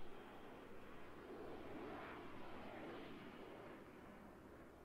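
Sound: jet aircraft flying over, from video game Arma 3

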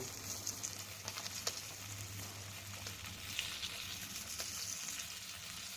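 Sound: marinated fish frying in a pan

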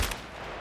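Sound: gunshot killing a scav in the video game Escape from Tarkov

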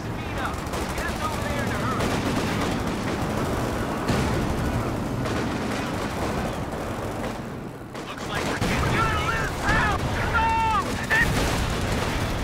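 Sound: machine gun fire in video game Company of Heroes

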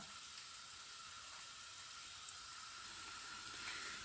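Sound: onions frying in a pan for Turkish onion eggs

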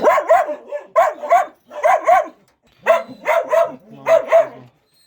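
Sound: dogs barking

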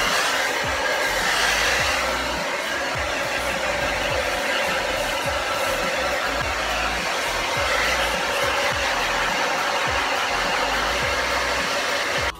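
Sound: hair dryer blowing

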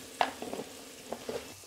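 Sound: onion frying in a pan

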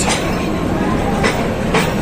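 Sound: Narayanganj commuter train arriving at station

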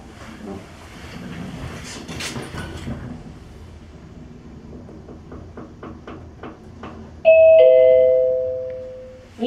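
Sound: elevator door opening with chime, JR Mito Station

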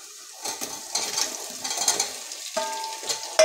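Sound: ginger garlic paste frying in a pan on full gas

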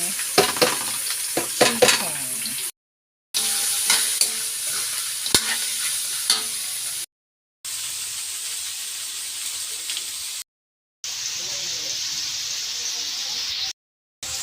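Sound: sautéing garlic and onion with chicken

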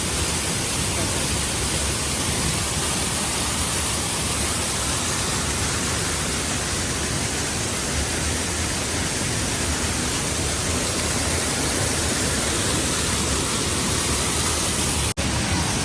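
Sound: waterfall roaring in Konkan, Lanja, Ratnagiri

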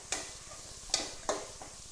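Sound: stirring curry leaves, mint and coriander in hot oil

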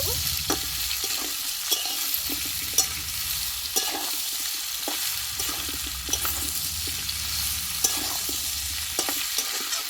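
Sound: stirring vegetables frying in a pan

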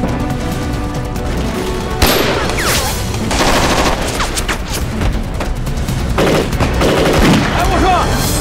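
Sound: gunfire in a war film battle scene

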